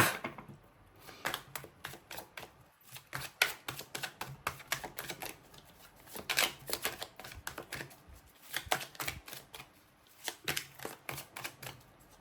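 Tarot cards being shuffled by hand, a dense run of quick riffling snaps and flutters repeating in irregular bursts for the whole stretch, fairly close and moderately loud with no talking.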